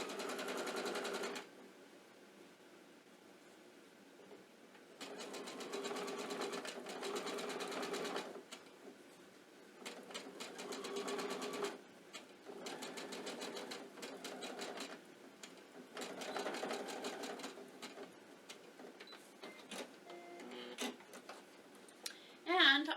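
A sewing machine runs in repeated bursts of close, loud stitching as rickrack binding is sewn around the edge of a small quilted mug rug, with short pauses between runs.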